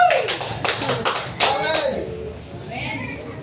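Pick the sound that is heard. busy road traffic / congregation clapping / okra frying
congregation clapping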